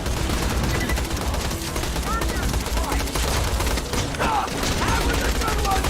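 Rapid automatic gunfire rattles nonstop in the Borderlands video game, a dense fusillade of shots with mechanical clatter, while voices speak over the battle.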